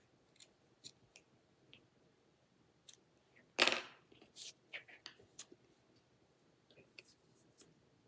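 Scissors snip crochet yarn close by, with one sharp, prominent cut and several faint, scattered clicks and rustles in a quiet room, while a soft voice talks low in the background.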